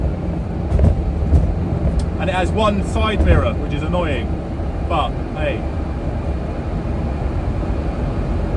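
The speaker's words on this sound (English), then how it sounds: "I forgot how noisy this car is." Loud, steady road and engine rumble inside a moving car, with a person talking over the drone for a few seconds.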